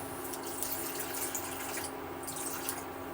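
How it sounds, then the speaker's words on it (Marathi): Half a bowl of water runs into a hot pan of jaggery on an induction cooktop, giving a continuous even hiss and wash of liquid throughout, close and moderately loud with no voices. "अर्धी वाटी आपल्याला पाणी त्यात ॲड करायचं आहे"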